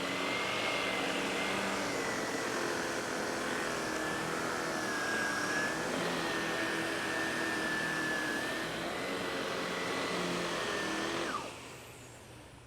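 A SEBO powerhead vacuum nozzle runs on a rug with a steady, close motor drone and a high whining tone that wavers slightly in pitch, then winds down and drops away near the end.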